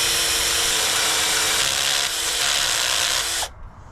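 A power drill grinds steadily through a two-layer aluminium mountain bike rim, a loud, continuous high whine lasting about three seconds before cutting off abruptly into near silence.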